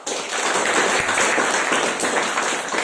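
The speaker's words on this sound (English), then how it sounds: "Big round of applause." A big round of applause from a speakers' forum audience, loud continuous clapping from a full room filling the whole stretch without pause.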